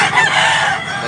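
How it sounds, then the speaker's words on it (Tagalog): A rooster crows up close, loud and strained, giving one short, harsh call that fills the whole moment. "Ganda ng manok."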